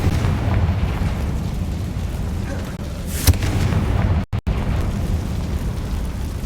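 Bombarda and Confringo spells blasting in Hogwarts Legacy, a dense rumbling wash of explosive noise with a sharp burst near the middle and a brief dropout just after.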